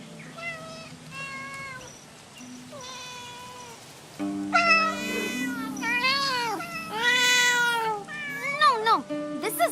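Cats in a video game temple meow repeatedly and close by, with sparse single calls at first, then louder, overlapping drawn-out meows.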